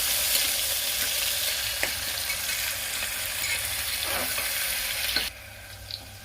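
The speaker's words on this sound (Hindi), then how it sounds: "अब इसमें मैं ये 4 मध्यम प्याज को डालूंगी और चला दूंगी।" Four medium onions hit a pan with dry-roasted whole spices and fry with a loud, continuous sizzle, with occasional scrapes of stirring before the sound drops off sharply near the end.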